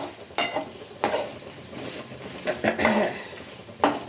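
Dried chillies, urad dal, cumin, fenugreek and coriander roast in a pan, a soft dry sizzle under repeated scraping stirs and clinks of a spoon against metal, close up with no talk.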